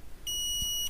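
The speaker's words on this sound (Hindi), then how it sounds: "यहाँ पर आपको बीप सुनाई दे रही है।" A multimeter set to continuity mode gives one steady, high electronic beep, held for most of a second, in a quiet room during a fridge thermostat check.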